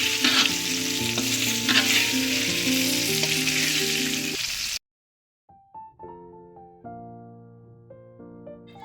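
Potatoes fry in oil with garlic, seasoned with salt and turmeric, giving a loud steady sizzle with stirring for about five seconds before cutting off, then quieter clinks and scrapes.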